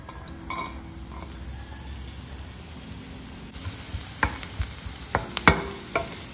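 Several garlic cloves dropped into a small amount of hot coconut oil, giving a soft steady fry with a few sharper clicks and scrapes of a spoon against the pan toward the end.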